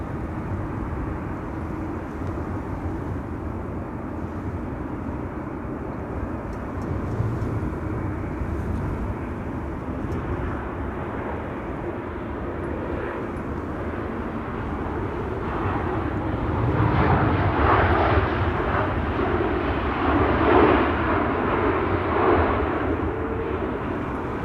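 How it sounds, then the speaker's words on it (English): A KLM Boeing 737-800 arriving at Amsterdam Schiphol from Berlin, a distant jet rumble that builds gradually into a louder, rougher roar toward the end, with no voices. "KLM, flight 1776, arriving from Berlin, 737-800"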